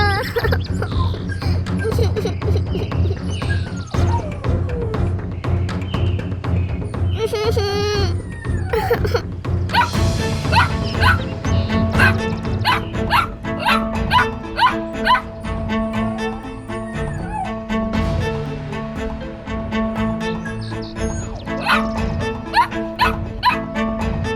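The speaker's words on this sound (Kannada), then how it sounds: "ಇವನ್ ಯಾಕೆ ಹಿಂಗ್ ಬೊಗಳ್ತಿದ್ದಾನೆ?" Cartoon dog barking in a Kannada children's animation, repeated yips and bow-wows running throughout over a dense, continuous music score with no clear gaps.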